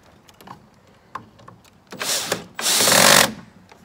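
Cordless power drill driving screws into a wooden garden obelisk trellis, with a short whir followed by a louder, steadier burst lasting under a second, preceded by faint handling clicks.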